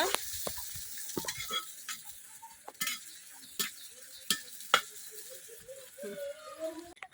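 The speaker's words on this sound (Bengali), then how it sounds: "পেঁয়াজ রসুনটা একবারে কড়া করে ভাজিয়ে লিছি।" Onion and garlic frying hard in oil in a village kitchen, a faint steady sizzle broken by sharp clinks and scrapes of a spatula stirring against the pan.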